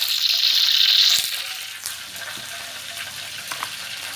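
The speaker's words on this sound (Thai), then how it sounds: "ตั้งการ้อนๆเดี๋ยวมาทอดกันเลยครับ" Small chopped pieces of boiled pork intestine fry in a hot pan with a loud, bright sizzle that eases after the first second into a steady, softer crackle with occasional pops.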